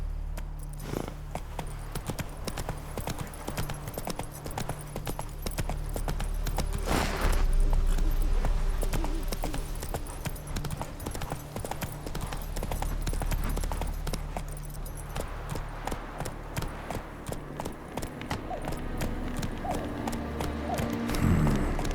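Roach, the horse in The Witcher 3, trots along with steady, close clip-clopping hooves throughout, over a low ambient game backdrop with occasional tack jingles and a snort.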